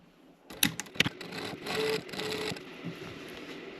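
A sewing machine stitches along the blue front lining 1 mm from the edge, giving a few quick mechanical bursts followed by a steadier whirring run, close and fairly quiet.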